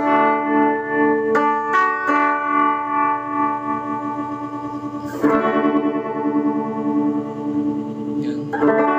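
Electric guitar fed through a Joyo Vision Dual-Modulation pedal set to tremolo, with sustained strummed chords whose volume pulses in a steady rhythmic wobble, several strums with reverb tail, no talking.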